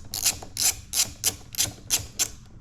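A ratchet with a 10mm socket loosens a battery terminal bolt on a Honda Rancher ATV, giving a close, crisp series of about eight evenly spaced clicking bursts.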